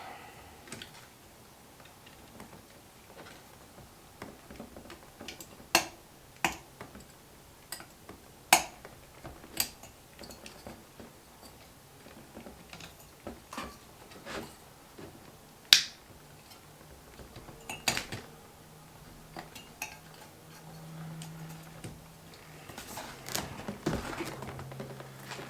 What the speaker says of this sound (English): I'm using the clamps here